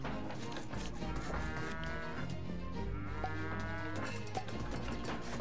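Sticky cows in the video game Rock of Ages 2 bleat and moo in repeated calls over busy game music and effects.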